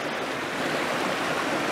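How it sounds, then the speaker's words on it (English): Tom Gill Falls at Tarn Hows gives a steady, loud, close rush of falling water, a dense and even roar that does not change across the short stretch and has no voices over it. "I didn't realise there was a waterfall down here"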